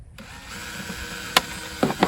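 A power drill with a 1/8-inch bit whirs steadily up close into a capped plastic bucket, followed by a few sharp clicks and knocks as the bit works through the plastic.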